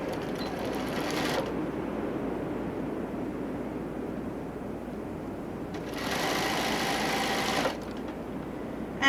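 A sewing machine stitches quilt fabric with a steady, close mechanical whir that speeds up into higher, brighter bursts near the start and again toward the end.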